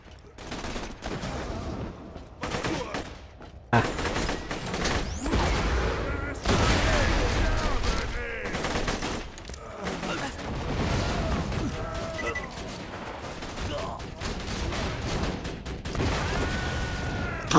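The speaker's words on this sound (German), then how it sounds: "Explosion über Explosion über Explosion," Borderlands 2 explosions and bursts of gunfire pile up densely and loudly, booms and rapid shots overlapping almost without pause, with talk mixed in.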